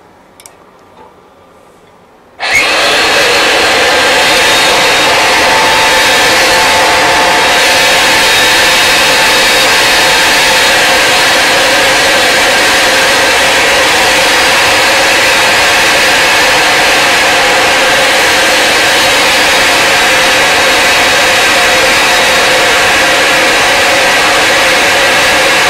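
A Ridgid 975 combo roll groover turning and grooving steel pipe, with a steady loud mechanical whir and faint rhythmic ticking that starts abruptly after a quiet moment and runs on unchanged.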